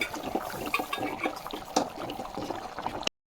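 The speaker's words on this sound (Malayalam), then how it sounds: "ഇതിനെ നമുക്ക് കുറച്ച് വെള്ളം ഒഴിച്ചിട്ട് കുറുക്കാം കേട്ടോ" Water is poured into a masala of coriander and chili powder in a cooking pot, a close, splashing, bubbling pour that runs for about three seconds and then cuts off abruptly.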